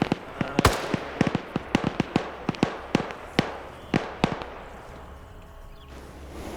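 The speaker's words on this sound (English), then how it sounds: "it is a bit of a loud AO, a lot of gunshots" In a video game military raid, a rapid, irregular series of sharp gunshot cracks, some louder and closer than others, fades off into quiet background noise.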